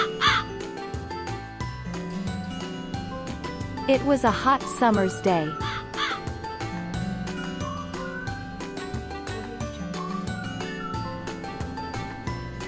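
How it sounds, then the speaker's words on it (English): A crow caws loudly in a cartoon-like village scene, several harsh calls bunched together partway through, set against continuous background music while a narrator speaks. "A thirsty crow flew into a village searching for some water to drink."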